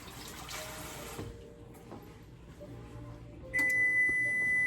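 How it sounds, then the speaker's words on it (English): Quiet kitchen noise with a little running water, then a clear electronic oven beep starts and holds as a steady tone until the end. "the oven just beeped, it's preheated"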